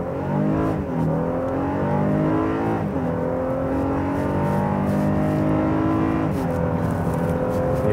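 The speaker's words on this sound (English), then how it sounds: "I'm just going to show you the acceleration run on the freeway" A 2016 Honda Pilot's direct-injection 280-horsepower V6 with nine-speed automatic accelerates hard on a freeway, its steady interior drone rising in pitch and dipping at each upshift, continuous and fairly loud with no talk.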